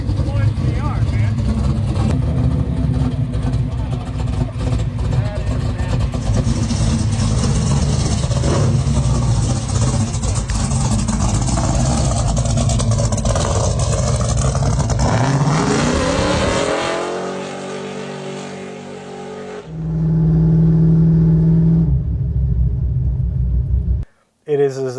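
Someone's old-school car with patina, engine running loud and close with a deep sustained rumble and revving, then dropping off, a brief restart surge, and a sudden cut near the end; voices are heard over it.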